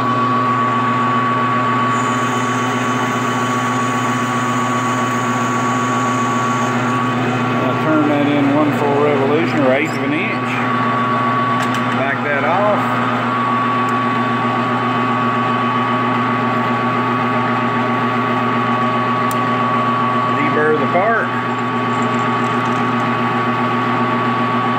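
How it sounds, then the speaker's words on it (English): A metal lathe runs with a steady, even mechanical hum while a part is machined, and someone talks over it at intervals. "turn the lathe back on."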